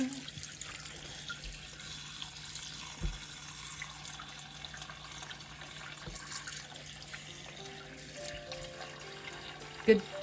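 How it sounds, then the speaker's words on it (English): Cold tap water runs steadily over cooked sweet potatoes in a kitchen sink, a continuous faint hiss and splash with a few small clunks and a sharper knock near the end. "Stop the cooking process with cold water."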